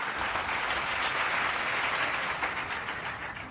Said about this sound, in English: Join me in a round of applause for Dr.